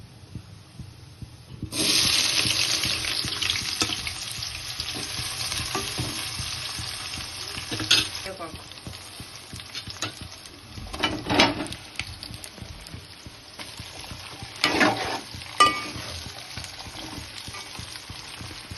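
Cumin seeds hit hot oil for a capsicum masala curry with a sudden bright sizzle that stays strong and slowly eases, broken by a few clattering stirs of a spoon in the pan.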